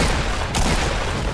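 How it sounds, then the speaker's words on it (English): Rapid gunfire crackles in Fortnite, a dense, loud burst of overlapping shots packed into a moment with no voices over it. "Someone's shooting Dave from behind."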